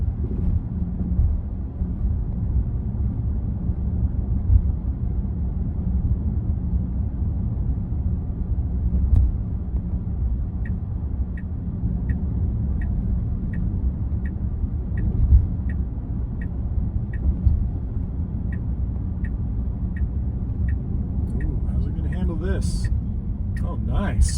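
Inside a 2026 Tesla Model Y on the road, a low, steady cabin rumble of tire and wind noise holds quiet and even, with faint rhythmic ticks partway through and no voices.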